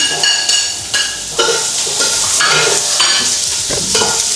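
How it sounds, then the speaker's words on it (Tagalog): Garlic and onion sauté in a hot pan, a loud steady sizzle with scraping stirs of a utensil against the pan for soup. "So yan, ginisa na natin yung ating garlic and onion."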